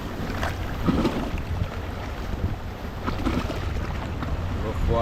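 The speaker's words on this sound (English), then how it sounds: "Rough waters, guys." Rough, choppy sea water churns under a bridge in Jamaica where someone is fishing, a steady wash with wind buffeting the microphone, while someone talks intermittently over it.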